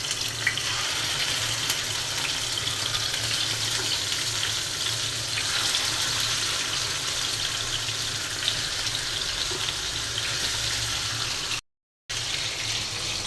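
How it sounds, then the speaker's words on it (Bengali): Fish fries in hot oil in a home kitchen, a dense, steady sizzling hiss heard up close that carries on without a break apart from one brief dropout near the end. "এখন মাছটা ভাজবো, ভেজে তরকারিটা রান্না করব। তেলটা একটু গরম হোক। মাছটা এখন দিয়ে দিচ্ছি।"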